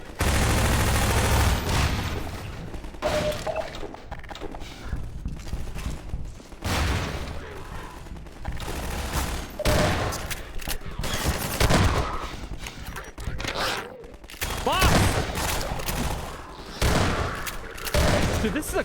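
Rapid gunfire rattles through a Half-Life 2 firefight, with dense bursts of automatic shots and heavier booms repeating across the whole stretch, loud and close, broken by brief lulls.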